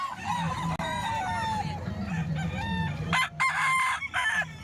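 Two chickens for sale at a butcher's market, one mature, crowing and clucking up close in repeated loud calls, with a low murmur of background activity underneath.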